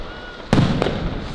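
Rocket firework arrows (pijlen) launching skyward during a New Year's Eve celebration, a sudden loud whooshing burst followed by a second launch a moment later, close by.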